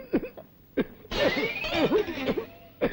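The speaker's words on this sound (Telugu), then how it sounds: "ఎక్కడిది దగ్గు? నేనే సార్." A man gives a few short, raspy coughs with voiced, throaty bursts, close and fairly quiet, spaced unevenly with brief gaps between them.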